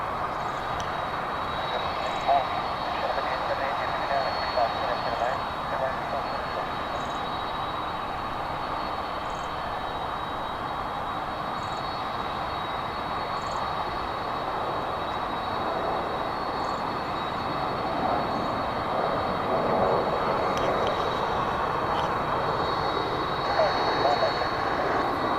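Aircraft at Dallas Fort Worth airport produce a continuous broadband engine roar with a faint high whine, steady and moderately loud throughout, while people talk over it.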